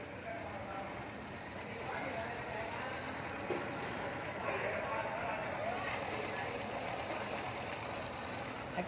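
A Honda Dream Thai motorbike engine runs close by with a steady, ticking idle that fills the whole stretch, while someone talks over it.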